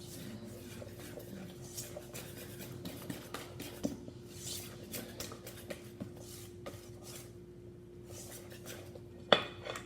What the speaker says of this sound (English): then you whisk it until you can't see any dried flour left